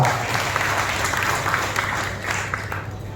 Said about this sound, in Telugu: బిగ్గరగా చప్పట్లు కొట్టండి మాట.